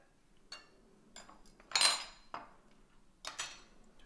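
A tablespoon scooping avocado flesh from its skin, giving a few soft scraping and clinking strokes, spaced irregularly, close and quiet, with one brighter scrape in the middle.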